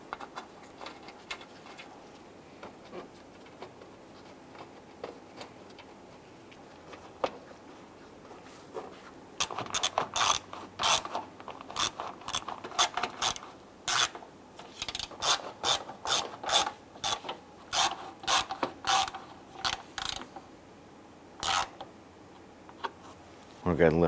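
Hand ratchet snugging 10mm grille bolts on a 1995-2001 Ford Explorer, heard as quick bursts of close metallic clicking in the second half after a quieter stretch, with a voice talking in the background.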